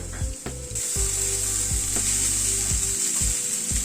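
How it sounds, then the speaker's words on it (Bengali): Sago and crushed roasted peanuts being stirred in a pan, a steady frying hiss with repeated low scraping and knocking strokes of a spatula against the pan. "সবকিছুকে দিয়ে আবার একটু নাড়াচাড়া করে নিচ্ছি।"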